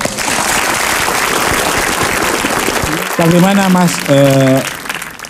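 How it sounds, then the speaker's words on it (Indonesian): A studio audience at an Indonesian talk show breaks into applause, a dense clapping wash lasting about three seconds before a voice speaks over the fading claps. "Tepuk tangan."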